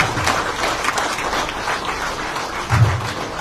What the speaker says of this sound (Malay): kita beri tepukan gemuruh pada Abang Mat kita